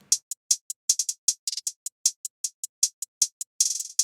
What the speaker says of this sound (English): And I had a hi-hat loop.